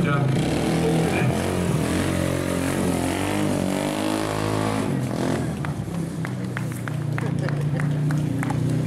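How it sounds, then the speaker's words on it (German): A stunt motorcycle at a Berlin stunt show pulls a wheelie from a standstill, its engine droning loud and steady with rising revs and harmonic sweeps, under a commentator's amplified voice and crowd noise. "So, aus dem Stand raus hier gleich mit dem Wheelie."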